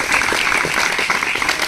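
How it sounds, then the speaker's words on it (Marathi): Audience applause during a speech at a memorial gathering, a dense, loud, continuous clapping of many hands with no speech over it. "तुम्ही टाळ्या वाजू नका, तुमच्यापेक्षा दुप्पट टाळ्यांचे वाजतात."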